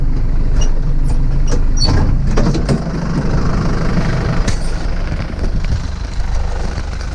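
Tractor engine pulling a corn inter-row hoe through a field, a loud steady mid-pitched diesel rumble close by with scattered clinks and knocks from the implement.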